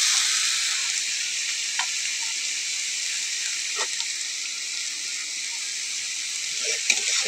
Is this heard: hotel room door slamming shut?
no